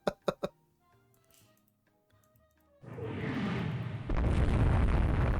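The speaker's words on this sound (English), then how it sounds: "just a succeeding shell from Wei Qing's aft twin" In Rule the Waves 3, a naval shell from the Chinese warship Wei Qing's aft twin turret explodes. A few sharp clicks come first, then a loud roaring blast that surges even louder partway through and keeps rumbling to the end.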